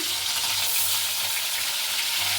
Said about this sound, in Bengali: এদিকে কড়াতে মাছ দিয়ে দিচ্ছি